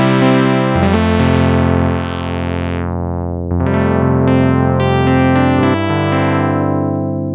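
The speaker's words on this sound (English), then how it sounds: "I think it's really good specifically for like brassy, plucky sounds like this." A Prophet-5 synthesizer with its Rev 3 low-pass filter plays sustained brassy, plucky chords and notes, loud and alone, with bright attacks that mellow as the filter closes.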